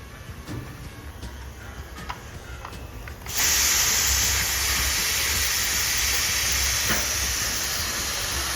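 Quiet kitchen ambience, then a pressure cooker boiling hulled wheat abruptly releases a loud, continuous steam hiss that keeps going to the end.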